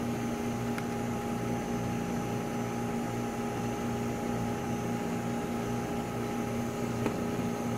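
Steady mechanical whir of a CEEBrewer 200CB spin coater spinning at constant speed, a continuous even drone with strong hum tones and no talking.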